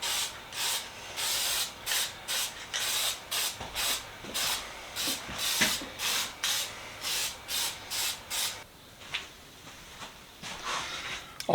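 Spray can laying a lacquer coat on old tools: a rapid series of short, close hissing bursts in a steady rhythm, thinning and sputtering toward the end as the can runs low.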